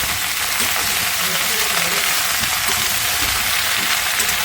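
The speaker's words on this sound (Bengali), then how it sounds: "আমি সবজিগুলো পাঁচ মিনিট ধরে ভেজে নেব" Spinach, potato, bean and eggplant frying in a pan, a steady, loud, even sizzle like light rain that holds unbroken throughout.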